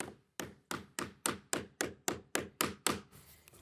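A soft-faced rubber mallet taps on deck board material, about ten evenly spaced, firm knocks close by, each with a quick decay, and no talking.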